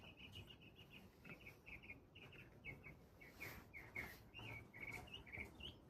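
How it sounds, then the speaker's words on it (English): Many birds sing and chirp outdoors in the background, a steady stream of short repeated high calls over a soft ambient bed, with no one talking. "Love the birds singing in the background."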